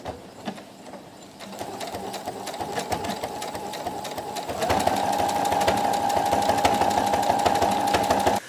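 A sewing machine stitches dollhouse bathroom quilt pieces in a steady, fast rhythmic whir that starts softly, then grows louder and more even partway through, close by with no talk.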